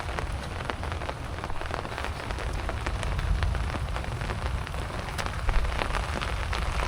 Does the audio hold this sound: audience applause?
no